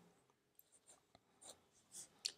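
Pen writing on paper during a lecture on Boolean functions, a few soft scratchy strokes and taps spaced irregularly, quiet and close, with no talking.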